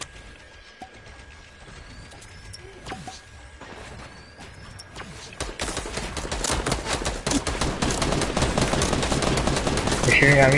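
Rapid bursts of video-game gunfire, sparse at first then building into dense, loud continuous shooting during a competitive online match, with players talking over it.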